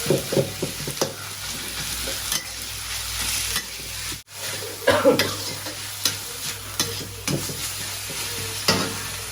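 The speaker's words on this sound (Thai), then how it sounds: "ใส่เนื้อลงไป คลุกเคล้าให้เข้ากัน" Beef stir-fried in a hot pan with pounded dried chili and garlic for pad kra pao sizzles loudly and continuously, broken by repeated close scrapes and tosses of the spatula, with no voices.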